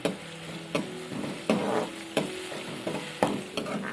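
Finely chopped onion fries over high heat in a pan with a steady crackling sizzle. A utensil stirs and scrapes it at a regular rhythm, making sharp strokes every half second or so, close and clear.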